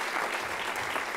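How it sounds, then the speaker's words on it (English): An audience at a mentoring awards ceremony dinner breaks into applause, a thick continuous wash of many hands clapping, steady and fairly distant, with no voices on top. "you all deserve a round of applause for"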